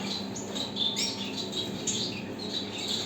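Gouldian finches in a breeding room give a steady mix of high chirps and short squawks, several birds calling over one another at close range with no talk.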